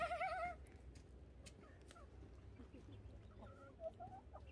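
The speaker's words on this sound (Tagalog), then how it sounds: "Chicken." Chickens cluck softly nearby, with a brief squeaky call at the start and scattered low clucks over quiet background noise.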